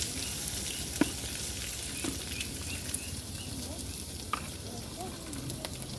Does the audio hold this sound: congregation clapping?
no